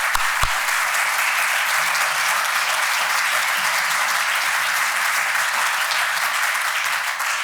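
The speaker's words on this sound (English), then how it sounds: "Let's have a last round of applause for all of our candidates." An audience at a candidates forum gives steady, dense applause that holds evenly for several seconds, with no talking over it.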